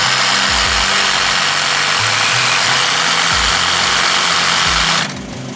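A DBPOWER DC Auto Premium 100PSI portable tire inflator runs loud and close with a steady buzzing motor drone and rhythmic pumping pulses, cutting off abruptly near the end.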